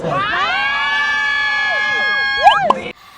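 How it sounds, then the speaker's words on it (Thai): A group of friends cheers and screams at the moment of a relationship confession, a bright sustained shriek of several voices held steady for nearly three seconds, with a few higher whoops at the end before it cuts off. "ท่ามกลางเสียงเชียร์เสียงกรี๊ดจากแก๊งเพื่อนๆ"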